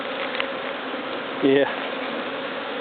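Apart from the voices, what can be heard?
honey bees buzzing around hive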